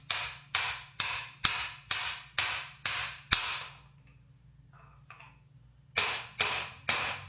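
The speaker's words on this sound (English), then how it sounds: "I got the splines lined up and a 32 mil socket over the end of this, and then I'll just hit it back into place" A hammer drives a Honda FL5 Civic Type R axle back into place through a 32 mm socket and a piece of wood: seven sharp, evenly spaced metallic blows, a pause, then three more close-up strikes.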